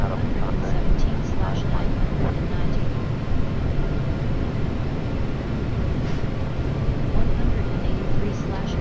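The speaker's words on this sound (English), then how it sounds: "Right, we're spooled up and we're heading down the runway" Airliner jet engines spooled up during the takeoff roll in a flight simulator, a steady loud roar with rumble and whine running throughout, under someone talking.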